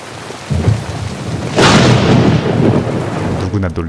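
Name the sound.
thunder with heavy rain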